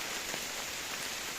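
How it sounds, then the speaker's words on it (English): Heavy rain shower pouring down outdoors at a wild camping spot, a dense, steady hiss of drops drumming on surfaces with no pauses. "Now this is what you call a rain shower."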